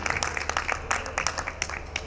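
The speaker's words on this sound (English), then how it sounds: "Give it up, you can clap your hands for Ms." An audience claps for a guest speaker at a business conference fireside stage in Beirut, a brisk burst of close, distinct hand claps from a modest crowd, rhythmic and fairly loud.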